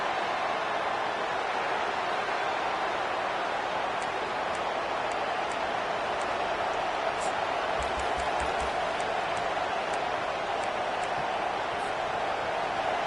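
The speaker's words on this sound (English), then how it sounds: "This crowd bringing the energy and noise early." Steady, dense stadium crowd roar from a PS5 football video game, filling the whole clip evenly at a constant level, with faint higher clicks and ticks sprinkled over the wash.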